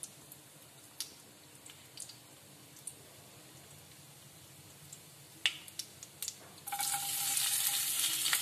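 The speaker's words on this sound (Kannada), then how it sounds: "ಸಾಸಿವೆ ಚಟ್ಪಟದಿಂದ ಸಣ್ಣಗೆ ಹೆಚ್ಚಿದ ಈರುಳ್ಳಿ ಹಾಕಬೇಕು" Mustard seeds crackle in hot oil for an aloo kurma in a home kitchen, a series of sharp scattered pops. Chopped onion then goes in and sets off a louder, continuous sizzle that fills the last seconds. Nobody speaks.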